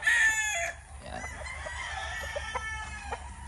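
A gamefowl rooster of the white Kelso line crows loudly and close at the start, and the call trails off into a softer, more distant murmur of other fowl.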